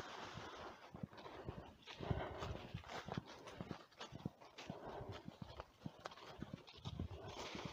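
Horses walk on a Christmas outing, hooves clopping in a steady, uneven rhythm close by, with wind noise in the background and no talking.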